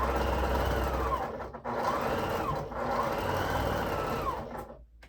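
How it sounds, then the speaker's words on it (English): Sewing machine stitching a three-yard fabric panel, a steady loud mechanical whir running in two long bursts with a brief pause between them, no talking. "we are going to sew on both sides"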